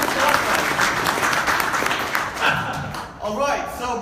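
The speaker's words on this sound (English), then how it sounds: "can we put our hands together for Jason Clark" A conference audience applauds steadily for a speaker, a dense wash of clapping that fades toward the end while a voice begins talking over it.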